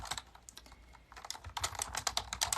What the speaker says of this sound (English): I have to stop talking and start typing though